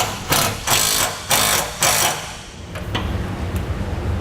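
A power tool drives a self-tapping bolt into metal to cut its own threads while installing Air Lift LoadLifter 5000 rear air helper springs, heard up close as several loud, rhythmic whirring bursts that then settle into a steadier grind.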